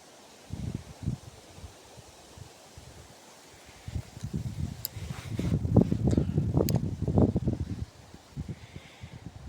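Gusts of wind buffet outdoors in uneven surges, swelling louder midway with rustling bursts before easing off again.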